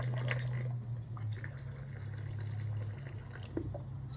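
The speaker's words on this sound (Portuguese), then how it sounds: "Vamos colocar aqui um pouquinho de água aqui, ó. Água bem quente." Very hot water poured into a cup for an herbal tea remedy, a soft continuous liquid trickle and splash over a low steady hum, faint and without speech.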